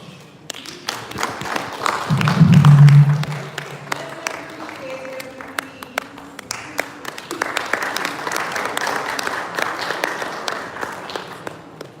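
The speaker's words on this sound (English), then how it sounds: "Let's just give him an extra round of applause." An audience applauds at a banking summit awards ceremony, starting as loud, dense clapping and then settling into steady, scattered clapping that continues throughout.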